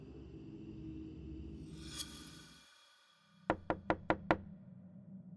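Police knocking on the door of a house: five sharp, evenly spaced raps close by, following a stretch of low background rumble that drops away to near silence.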